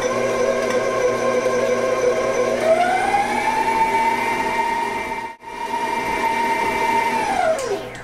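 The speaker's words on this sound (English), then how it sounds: "Put that back on the mixer and get that mixed well." A stand mixer beats bourbon cake batter after sour cream goes in, its motor giving a steady, loud whir with a rising pitch that holds, a brief dip midway, then winds down near the end; no talking.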